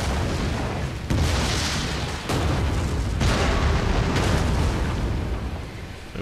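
Explosive Greek fire amphora rounds from catapults in Rome 2 Total War burst in a dense, continuous barrage of booms and rumbling blasts, loud and close, with several sharp impacts standing out over roaring fire and battle noise.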